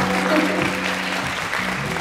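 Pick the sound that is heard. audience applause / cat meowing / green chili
audience applause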